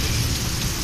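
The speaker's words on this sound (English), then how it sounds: "the rain is raining by cats and dogs, like cat and dog." Heavy rain pours steadily over Rawalpindi, a dense, continuous hiss of drops close by with a low rumbling undertone and no voices.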